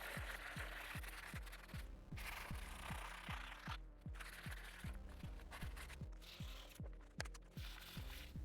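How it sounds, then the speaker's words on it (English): Hand sanding a damaged BMW G310R motorcycle crash bar with coarse grit sandpaper, a continuous close scraping rasp with a steady back-and-forth rhythm of about two strokes per second, alone without talk. "Next step will be to finish it off with some sandpaper."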